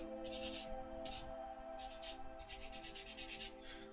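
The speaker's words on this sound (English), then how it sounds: "just a little bit of a gentle rub before I put the clear coat on" Light, brisk rubbing strokes on a small 1/72 scale resin model kit before clear coat, short scratchy bursts repeated in quick rhythm over a steady background hum.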